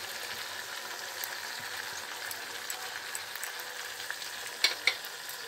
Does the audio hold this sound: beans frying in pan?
yes